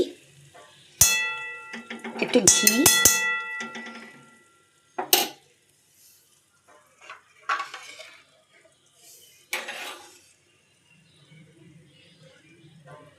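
Stirring a finished dish in a pan with ghee and garam masala scattered in, the gas already off: a burst of scraping and clinking utensil strokes, then a few sharper separate taps and scrapes with quiet gaps between them.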